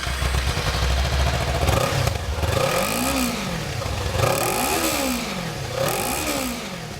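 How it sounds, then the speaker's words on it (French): Kawasaki Ninja 300 motorcycle engine revving through its bulky sport-style exhaust, three rising-and-falling rev sweeps over a steady idle-like rumble, close and fairly loud with no talking. "Le volumineux échappement typé hyper sportif Kawasaki donne lui aussi de la voix"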